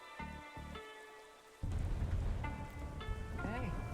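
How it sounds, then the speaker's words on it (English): Rain falls in a video game, a steady wash of rainfall that swells in after a quieter opening of tones and music, carrying on at moderate level with brief synth notes over it. "The hills are alive with the sound of raining."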